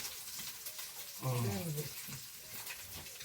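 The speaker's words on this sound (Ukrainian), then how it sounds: "Так що сковорідочка шкварчить" A pan sizzles steadily with a hissing crackle of frying food, while a voice speaks briefly partway through.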